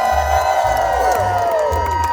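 Luau crowd cheering and shouting at an evening show, a dense wall of voices with rhythmic bursts over a steady low pulse, loud and sustained throughout.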